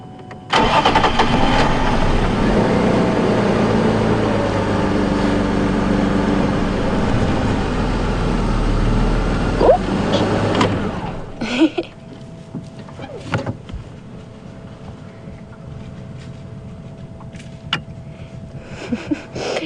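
Safari vehicle engine cranking to life and running loud and close as it drives off to reposition, then cutting out, leaving quiet outdoor ambience with a few faint knocks.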